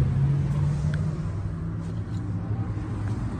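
A 2019 Jeep Renegade's engine runs at a steady idle, a low, even rumble that holds close and constant throughout with no voices over it.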